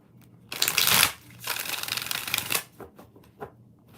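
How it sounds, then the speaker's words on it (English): Tarot cards shuffled by hand during a live tarot reading: two dense riffling bursts, the second longer, followed by a few light taps and card clicks, close and clear with no talk. "One more shuffle."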